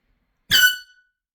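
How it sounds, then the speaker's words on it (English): A single short, loud blast from a handheld prank air horn, a sharp, brassy honk lasting under half a second that cuts off abruptly and is followed by silence. "So I have a video of my air horn."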